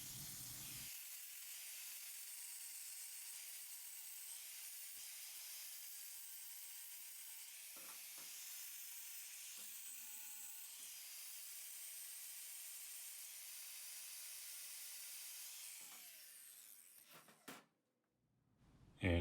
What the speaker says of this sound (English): me just dressing up the welds on those brackets